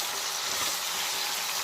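Steamed brinjal curry sizzles and is stirred in a hot pan, giving a steady, dense hiss of frying throughout, close and even, with no talking.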